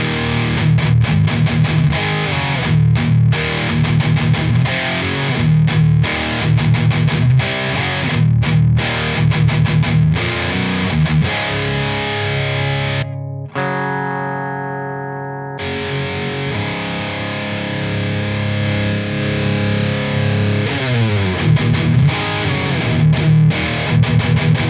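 Electric guitar played through a Marshall DSL pedal into the clean and then the lead channel of a Marshall TSL amp: loud, heavily distorted chords and riffs, with a brief sustained ringing note midway before the chugging resumes.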